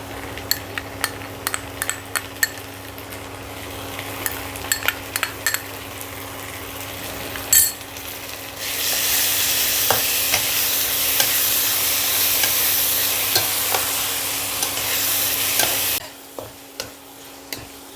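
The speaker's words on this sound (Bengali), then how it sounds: "পেঁয়াজ আদা রসুন কাঁচা লঙ্কা পেস্ট কষানো হয়ে গেল" Onion with ginger, garlic and green chilli paste being fried and stirred for a Bengali mutton keema ghugni; a sizzle swells to a steady loud hiss midway, with spoon scrapes and clinks against the pan, then cuts back to sparse stirring.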